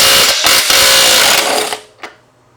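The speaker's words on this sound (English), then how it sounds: "first time I'm going to be using this brushless DeWalt wrench on anything" A brushless DeWalt impact wrench runs for a close, loud rattling burst of about a second and a half, used while mounting a rear Pirelli Scorpion Rally STR motorcycle tire. It stops abruptly and is followed by a single short click.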